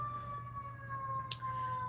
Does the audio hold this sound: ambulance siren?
yes